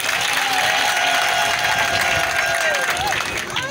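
Crowd applause for visiting army leaders at an official installation ceremony in Minembwe, loud and sustained clapping with some cheering, while a voice and background chatter carry on over it.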